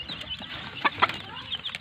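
Desi hens cluck softly nearby in a short burst, a few brief clucks over a low background.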